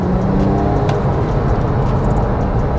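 A steady, loud engine drone fills the whole stretch, a Porsche Carrera S sports exhaust holding a constant rumble without clear rises or drops in pitch.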